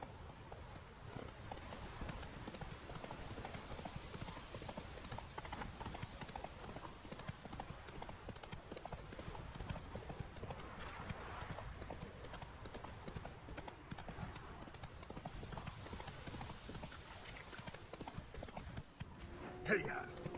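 Roach, Geralt's horse in The Witcher 3, trots with steady clip-clopping hooves throughout, joined by game ambience and occasional speech.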